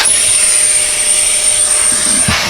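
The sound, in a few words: Hoover garage utility vacuum running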